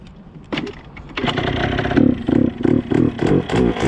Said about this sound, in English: Your bike, you gotta give it gas.